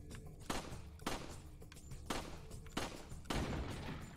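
Gunfire from the PS2 game Resident Evil 4: five separate shots spaced roughly half a second to a second apart, each a sharp broadband crack with a short tail over a steady low background rumble, fairly quiet overall.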